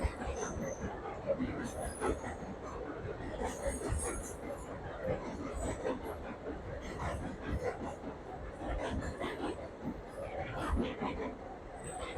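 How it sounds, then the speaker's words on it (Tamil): The Sethu Express passenger train from Chennai to Rameswaram rumbles steadily past close by near the Pamban bridge, with clattering wheels and occasional high squeals, while people chatter in the background. "ட்ரெயின் வந்து தரைக்கு ஏறிடுச்சு தெரியுதுங்களா"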